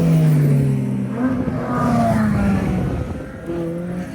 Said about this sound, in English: You can see also a lot of cars and motorbikes going a bit crazy up here.